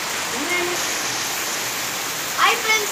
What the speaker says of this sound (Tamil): ஓவராக மழை பெய்யுது